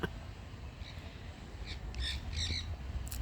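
Monk parakeets, also called Quaker parrots, give several harsh squawks that grow louder and more frequent toward the end, heard at moderate distance over a steady low background rumble.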